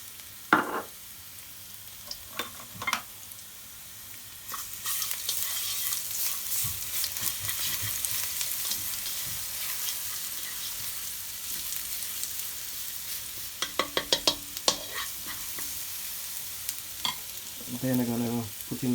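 Garlic frying in a little oil in a pan breaks into a loud, steady sizzle after a few quiet clinks, with scattered utensil taps and stirring scrapes over the hiss.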